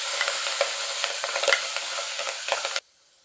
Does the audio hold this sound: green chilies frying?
yes